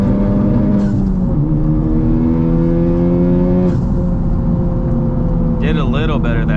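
A 2020 Honda Civic Type-R engine revving hard at full throttle, loud sustained climbing engine tones with brief shifts and a rising whine near the end, heard from inside the car.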